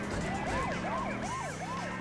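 An ambulance siren in GTA 2 wails in a rapid repeating up-and-down cycle, moderately loud over a rumbling background of traffic noise.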